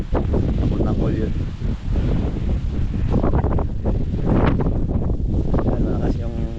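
Strong, steady wind of over 20 on a windy seaside shore buffets the microphone with a loud, continuous roar, and faint voices can be made out beneath it.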